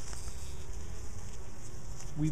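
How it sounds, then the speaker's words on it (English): Honey bees poisoned by pesticide buzz at a home hive entrance, a dense close-up drone of many fast-beating wings that stays steady and loud for a couple of seconds. "we've got just a carpet of bees that are crawling around. They're acting like they've been poisoned. They're flapping their wings extremely fast"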